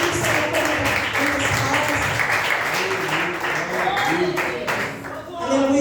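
Church congregation clapping steadily throughout, a dense continuous patter of many hands, with voices and singing-like tones mixed underneath.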